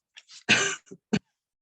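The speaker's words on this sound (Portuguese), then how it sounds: "Estou com um pouquinho de pigarro" A person clears their throat up close in a few short, raspy bursts: a brief rasp, one longer harsh clearing, then two quick catches, with silence between.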